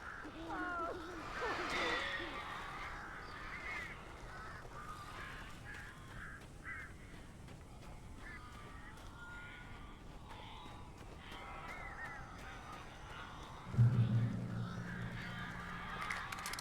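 Birds calling in the Alan Wake video game, harsh crow-like caws and honks over a steady eerie ambient bed, with a louder low rumble rising near the end.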